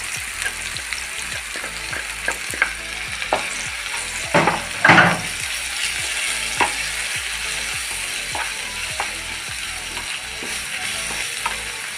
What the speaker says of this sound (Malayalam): നമ്മൾ വെച്ച സബോള നന്നായിട്ട് ഫ്രൈ ആയിട്ടുണ്ട്